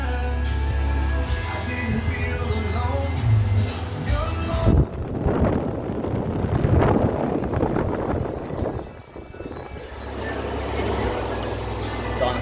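A brand-new Frigidaire window air conditioner in an outer garage blows cold air on high cool, a loud, steady broadband whoosh that shifts in tone partway through.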